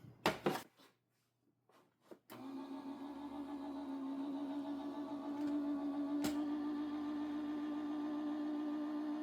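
A die-cutting machine steadily feeds a Halloween-themed greeting card between plates, giving a continuous mechanical whir with an even hum after a few brief handling clicks; no talking.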